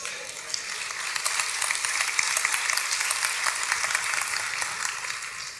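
An audience at a church sermon applauds for Jesus, producing a dense, steady wash of many hands clapping together at moderate volume throughout.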